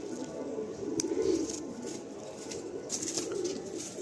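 Pigeons at a pigeon sale in Nepalgunj coo softly and low in a steady murmur, with faint rustling and a few brief clicks in the background.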